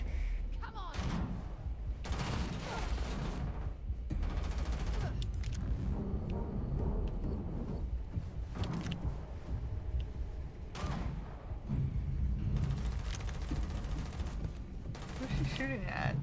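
Gunfire in the sci-fi shooter game Starfield, with repeated bursts of shots and heavy thuds spread across the stretch at moderate loudness, some bursts close and sharp, others duller, with game voices in between.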